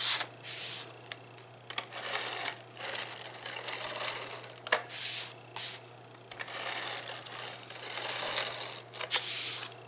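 Tape is torn in short, quiet rips and rubbed down to hold paper on a Halloween scrapbook layout. The irregular bursts of tearing and smoothing are separated by brief pauses, with no talking.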